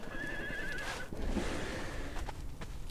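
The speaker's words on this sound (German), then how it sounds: "Habe ein Pferdchen gehört." A horse neighs in the Conan Exiles video game: one clear, whinnying call at the start over steady game ambience, followed by faint hoof-like clops and movement noise.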